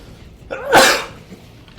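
A single sharp, close sneeze bursts out midway through, brief and loud against faint background hiss, with no talking around it.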